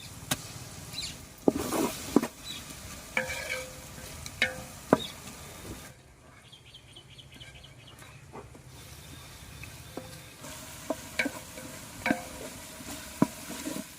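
Ginger garlic paste is stirred in a hot pan while making prawn biryani, giving a soft steady sizzle with scraping spatula strokes and occasional sharp clinks, fairly quiet and without talk.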